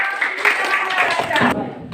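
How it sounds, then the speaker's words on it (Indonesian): Classroom clapping for a student group that has just finished presenting, a dense patter of many hands under a murmur of voices, cutting off sharply near the end. "berikan tepuk tangan kepada kelompok"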